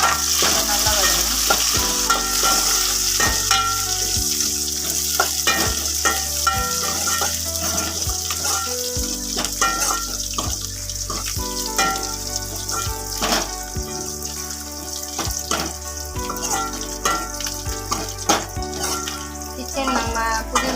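Green chilies and garlic sizzle and fry in a hot pan for a fish curry, with steady crackling and repeated stirring scrapes throughout, no talk over it.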